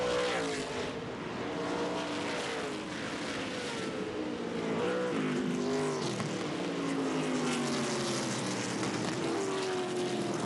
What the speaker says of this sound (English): You see Will Kimmel, that red car, trying to get to the inside of LeVar Scott.